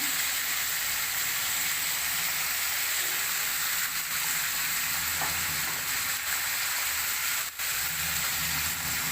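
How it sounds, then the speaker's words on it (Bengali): Okra sizzles steadily in a hot pan with turmeric, a loud, constant crackling hiss of frying oil that runs unbroken from start to finish. "সব ভাজা হয়ে যাবে।"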